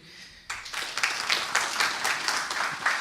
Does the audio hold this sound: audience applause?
yes